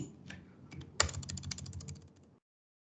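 Quiet clicking of computer keyboard keys as a file name is typed, a quick run of taps with one sharper keystroke near the middle, then silence.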